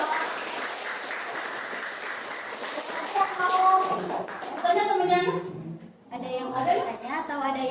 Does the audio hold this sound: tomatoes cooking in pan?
no